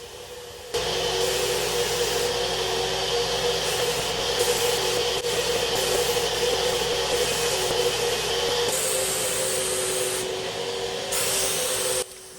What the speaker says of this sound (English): The last thing I spray is the face of the cabinet, which is one of the most important parts.